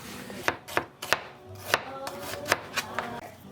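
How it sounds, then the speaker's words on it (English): A knife thinly slices red onion on a cutting board, about ten crisp close taps at an irregular, fairly quick pace over a quiet background. "All right, so we got some red onion here. I'm just gonna do a nice, very, very thin cut on these."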